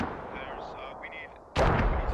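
A burst of gunfire in a military squad video game erupts abruptly late on, loud and sharp after a stretch of quieter low rumble and faint tonal ambience.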